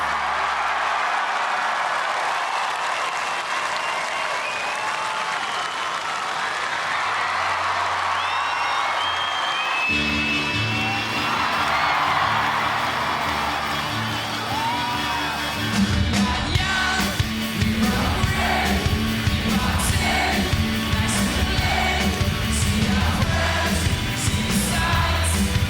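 Concert crowd at a show cheering, yelling and singing along, a dense continuous roar that shifts into louder, more rhythmic crowd noise with music-like pulses after the midpoint.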